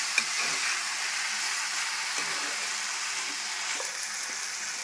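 Fresh mint and coriander fry in a pan with a continuous, even sizzle and a few soft stirring knocks. No one speaks.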